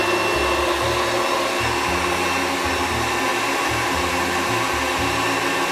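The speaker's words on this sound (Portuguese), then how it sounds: "eu dou uma leve levantada na batedeira pela quantidade pouca de clara que eu tenho" A stand mixer beats a small amount of egg whites for a lemon tart's meringue, a loud, continuous whirring motor drone with a faint, uneven churning pulse underneath and no voices.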